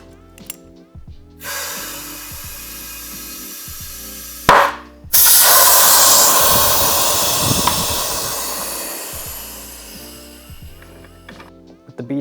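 Compressed air blasting into a Onewheel tire to seat the bead, with a brief initial hiss, a sharp pop, then a loud, sustained rushing roar that slowly fades, close up.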